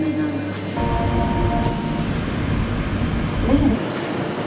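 A Regiojet passenger train waits at a station platform on the Budapest to Vienna route, giving off a steady, fairly loud broadband rumble and hiss with a low hum that eases after a few seconds.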